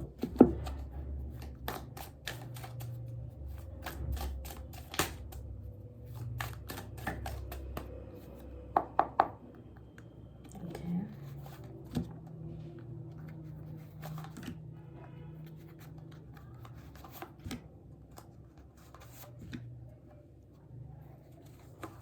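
Tarot cards are shuffled close by in quick, crisp riffling bursts and taps, spread across a quiet room with some low background noise.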